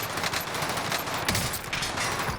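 Sustained automatic gunfire on Rebirth Island in Warzone, a fast, loud, continuous rattle of shots filling the short burst without pause.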